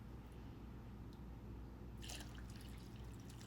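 Two cups of water pour into a pot of rice and homemade vegetable stock for dill pilaf, a soft, close splashing trickle that swells in the second half over a steady low hum.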